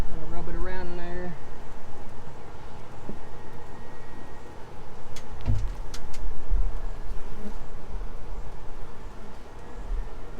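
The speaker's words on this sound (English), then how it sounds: "Try to get it back behind where those bees are already at." Honey bees swarm in a steady, loud buzzing drone during a cutout of a hive from the second story of a house, with a few knocks and scrapes of tools partway through and no one speaking.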